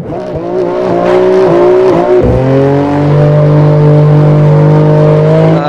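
A BMW sports car engine revs loudly and accelerates, its pitch climbing through gears before settling into a strong sustained roar, close and with no talking.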